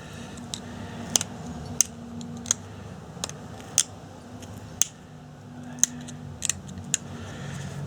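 Sharp, sparse clicks and ticks of flintknapping as the tip of a Thebes style stone point is trimmed, a dozen or so irregular close taps over a low steady hum.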